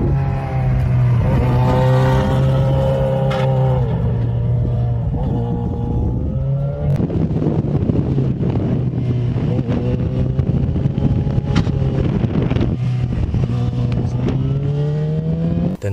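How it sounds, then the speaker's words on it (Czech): Steady engine drone and wind roar while riding a Yamaha XJ6 motorcycle with an IXIL SX1 exhaust, with a continuous metallic footpeg rattle and buzz running throughout; no talking. "Ten zvuk, co tam slyšíte, je opět stupačka, není to výfuk."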